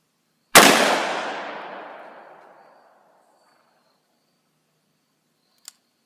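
A single loud gunshot from a .457 magnum rifle cracks sharply and nearby, then its echo trails off over about two seconds, followed by a brief faint click.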